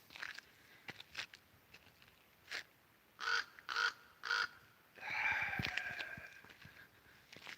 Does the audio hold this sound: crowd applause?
no